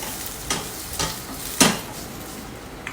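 Ginger sizzles steadily in a hot pan while a utensil stirs it, making a few sharp scraping strokes spaced about half a second apart over a constant close frying hiss.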